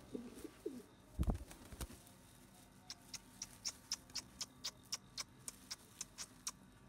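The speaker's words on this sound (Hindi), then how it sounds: "ये देखें सारे कबूतर अपने जमा हो रहे हैं अभी।" Repeated soft pigeon coos in a steady rhythm, about a dozen calls, following a brief thump; fairly close and otherwise quiet.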